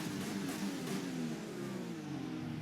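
A McLaren Formula 1 car in the F1 2020 racing game, engine revving and accelerating at Abu Dhabi, a steady high-pitched whine rising in pitch over a few seconds, fairly quiet and with no voices.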